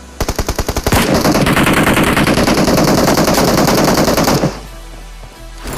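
Loud automatic gunfire in a video game, opening with a few separate shots before merging into a sustained rapid burst that cuts off sharply, leaving quieter game ambience behind.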